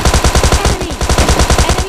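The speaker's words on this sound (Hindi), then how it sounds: "टॉमी से पेल देते हैं, जो कि एसएमजी गन के बीच में आती है" Tommy gun submachine gun firing in PUBG Mobile Lite, a loud, close, rapid and steady burst of shots with an even rhythm and no pauses.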